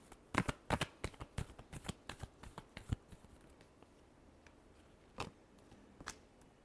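Tarot cards are shuffled by hand in quick, crisp riffling bursts for about three seconds, then a couple of isolated soft card taps follow in a quiet room.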